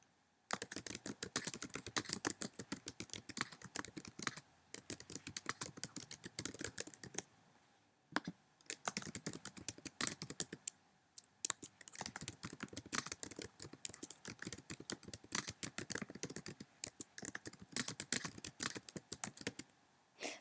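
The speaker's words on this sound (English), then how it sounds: "I can type another question." Rapid, continuous clicking of keys on a computer keyboard as a question is typed, with brief pauses between bursts of keystrokes, fairly close and clear.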